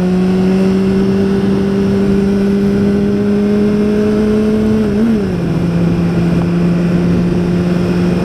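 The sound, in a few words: BMW S1000RR motorcycle high-speed flyby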